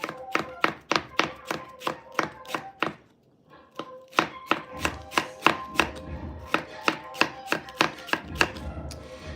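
A knife chops rapidly on a cutting board in a steady rhythm, mincing bell pepper, pauses briefly, then resumes the quick, close mincing strokes.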